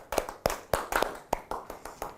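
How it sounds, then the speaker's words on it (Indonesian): Sparse hand claps from a small group in a classroom or training session on standard precautions through handwashing, about a dozen separate sharp claps in an uneven rhythm, fairly close and modest in volume, with no talking. "Tepuk tangan buat Bu Susi."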